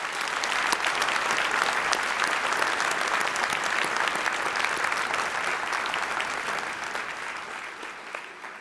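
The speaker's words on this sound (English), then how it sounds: "let's give everyone a round of applause" A large audience at a Montgomery College presidential inauguration applauding in a sustained, dense wash of clapping that holds steady for several seconds and then slowly thins out.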